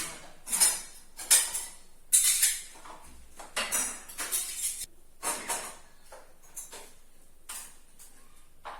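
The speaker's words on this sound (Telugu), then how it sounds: "ఈ గిన్నెలన్నీ తోమేస్తాను" Dishes and pots being scrubbed and clattered at a home kitchen sink, with irregular bursts of metallic clinks and scraping close by, loud at first and then thinning to scattered knocks, no talking.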